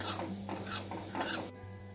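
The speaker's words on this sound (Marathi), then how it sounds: "अशाच प्रकारे आपल्याला सर्व जे गुलाबजामुन आहे हे तळून घ्यायचे आहेत" Gulab jamun balls frying in hot oil, a soft steady sizzle mixed with gentle stirring scrapes of a utensil in the pan, close by, cutting off abruptly near the end.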